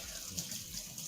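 Water runs briefly from a tap for rinsing, a short soft continuous splash over about a second.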